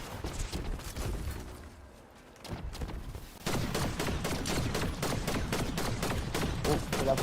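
Video game gunfire, rapid bursts of shots in a dense, continuous fusillade that grows louder and steadier midway, close and heavy, with occasional voices mixed in.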